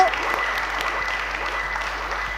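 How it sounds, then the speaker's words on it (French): A studio audience applauds young guests on a television show, steady continuous clapping at moderate level throughout, with faint voices mixed underneath. "j'aimerais avant même mon propos qu'on applaudisse très très fort"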